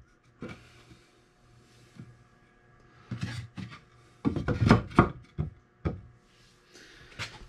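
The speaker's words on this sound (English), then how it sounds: "So there's a multi-tool oscillating saw." An oscillating multi-tool saw cuts a notch in cedar wood for an RV shower build, giving bursts of buzzing, rasping cutting separated by short pauses, growing louder and denser midway before tapering off.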